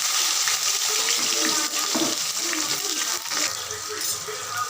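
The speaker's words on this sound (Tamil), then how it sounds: "இப்போ வந்து நம்ம வெங்காயத்தை சேர்த்துக்கலாம்" Onions drop into hot oil for a chicken gravy with small shallots and pepper, setting off a loud, steady sizzle with bursts of crackling that rise and fade slightly over several seconds, with no voices on top.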